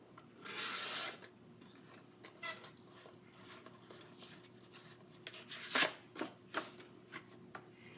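A paper trimmer slides and slices along a 12 by 12 inch scrapbook sheet, a soft raspy rub at the start and a few sharper scraping strokes later, quiet and close.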